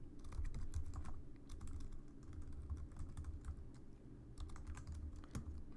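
Steady typing on a computer keyboard while entering Java code, a dense run of quick, close keystrokes with brief pauses, fairly quiet and with no talking.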